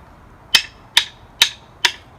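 A hi-hat taken apart and used as a pair of marching cymbals gives four sharp, bright crashes at an even pace, each ringing briefly and dying away, close and alone with no talk.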